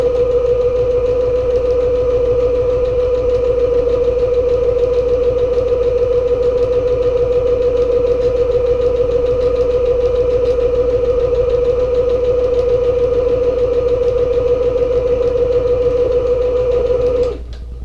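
A sewing machine runs steadily while stitching a seam on a medium-size zippered travel bag, a constant rapid mechanical hum and chatter, close and loud, stopping abruptly at the end.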